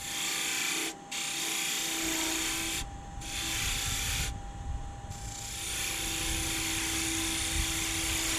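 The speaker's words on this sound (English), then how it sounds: "I like to use a round nose scraper to kind of smooth out the inside of the ball and get those tool marks out from the spindle gouge" A round nose scraper on a lathe smoothing the inside of a billiard ball: a loud, steady hiss of shaving over the hum of the spinning lathe, broken by a few brief pauses as the tool lifts off.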